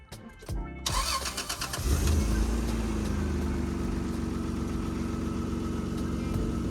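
A Toyota Land Cruiser 80 Series engine cranks briefly, catches and fires up, then settles into a steady, close idle that runs evenly to the end.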